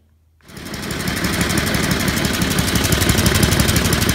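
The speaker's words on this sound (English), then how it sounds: "Barely took one little crank and fired right up." A Craftsman lawn mower's Tecumseh small engine fires up after a carburetor replacement, jumping from silence into a loud, steady, rapid putter that keeps running at close range.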